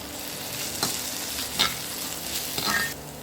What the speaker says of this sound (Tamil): அடுத்து நான் இப்போ வந்து இஞ்சி பூண்டு பேஸ்ட் சேர்த்துக்கிறேன்.